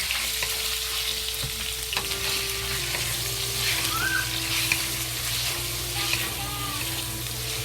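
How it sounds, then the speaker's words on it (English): Sliced pork fries in very hot oil in a wok for a yellow squash and pork stir-fry, producing a loud, continuous close sizzle that goes on unbroken with no voices. "slowly fry until the fat in the meat come out"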